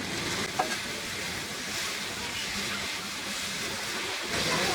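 Steady sizzling and frying in a pan as fried eggplant is stirred in, with faint stirring scrapes, continuous and close, with no voices.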